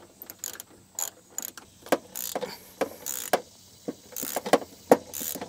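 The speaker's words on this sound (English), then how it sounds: "We're gonna start removing the bolts here." A ratchet works on 10mm bolts holding the washer fluid tank of a 4th-gen 4Runner, giving repeated short clicking bursts and metallic clacks at an uneven rhythm, close and fairly loud, with no talking.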